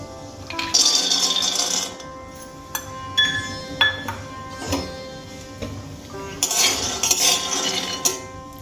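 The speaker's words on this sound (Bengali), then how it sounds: "কড়াইয়ের মধ্যে দিয়ে দেবো 1 বাটি চীনা বাদাম।" A spoon stirs a bowl of dry peanuts in a hot wok, giving sharp metallic scrapes and clinks in irregular bursts, close by and separated by short quiet gaps.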